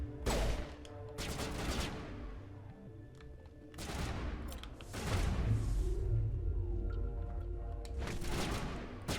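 Repeated gunshots and bursts of gunfire in the Mass Effect video game, loud, arriving in several clusters with heavy booming impacts and sustained rattling between them, no talk over it.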